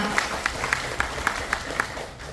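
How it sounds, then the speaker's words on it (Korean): A small audience at a Korean redevelopment briefing claps for a council committee chair, a sparse run of about eight evenly spaced claps that stands out above a murmuring room. "이시훈 행정문화위원장님 박수 부탁드리겠습니다"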